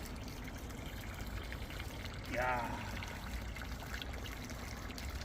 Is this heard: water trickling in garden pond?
yes